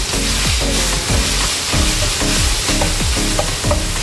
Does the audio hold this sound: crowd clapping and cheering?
no